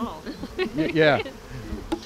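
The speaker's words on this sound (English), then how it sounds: "The bees are not angry at all." Bees from a gentle, calm hive buzz steadily during a transfer after about eight or nine months in place, a close insect drone running beneath a person talking.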